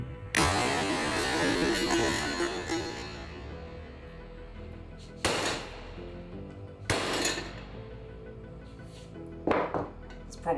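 A Trezor Keep Metal steel crypto wallet clamped in a vise is struck hard with a hammer, giving a few loud, widely spaced metallic impacts that ring out over a steady low background hum.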